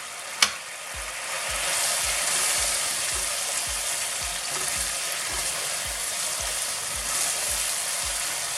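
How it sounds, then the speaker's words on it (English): Spices hit a hot pan for salmon curry and sizzle in a loud, steady hiss that runs without pause, with a sharp click at the start and faint rhythmic stirring scrapes underneath. "So I'm just gonna add the spice now."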